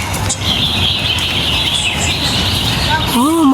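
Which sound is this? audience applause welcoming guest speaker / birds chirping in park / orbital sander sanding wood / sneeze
birds chirping in park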